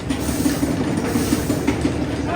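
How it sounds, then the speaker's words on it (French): A train rolls past at the Walibi Rhône-Alpes amusement park, a steady close rumble with a regular clickety-clack rhythm running through the whole stretch. "Et voilà un train qui passe."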